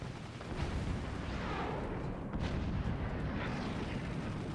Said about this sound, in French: Tire les canons, tire les canons